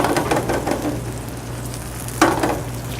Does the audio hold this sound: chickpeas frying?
yes